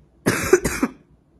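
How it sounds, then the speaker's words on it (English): A single short cough burst from a sick person, two quick barks close to the microphone, in an otherwise quiet room. "I literally just started coughing"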